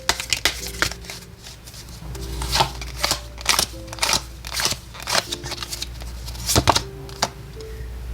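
Tarot cards are handled and drawn, producing a series of crisp papery snaps and flicks at irregular intervals, close up and fairly quiet. Soft tonal hums sit underneath.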